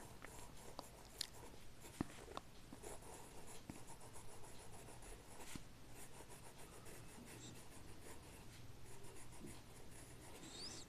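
A pen scratches steadily across a maths worksheet, writing out a geometry answer in a quiet room, with soft continuous strokes and a few small taps throughout.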